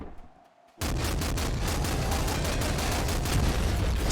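Heavy revolver fire in the game Nuclear Throne: after a brief near-silent gap, a loud, dense burst of booming gunshots and explosive blasts rolls on continuously, with no talk.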